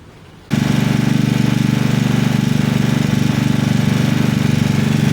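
After a quiet moment, the engine of a Snapper riding lawn mower starts up close by and settles into a loud, steady, rapid chugging that continues to the end. No voices are heard.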